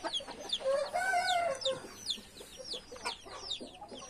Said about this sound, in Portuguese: Aí está os galos, Samurai, o Aladim, o Nevasca.